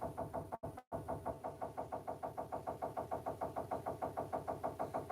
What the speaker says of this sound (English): Sounds like someone's knocking.